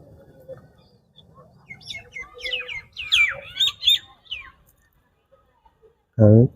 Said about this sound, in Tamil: பக்கத்தில் இந்த குயில் சத்தம் கேட்குதா